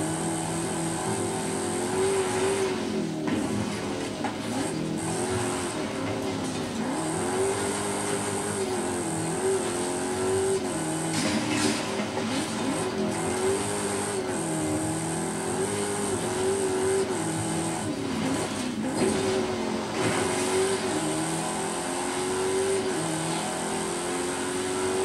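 A rally SUV with rally tires drives in Forza Horizon 5, its engine note droning continuously and rising and falling in pitch with throttle and gear changes.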